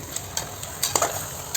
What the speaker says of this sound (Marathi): असं मस्त परतून घ्यायचं, वर खाली करून घ्यायचं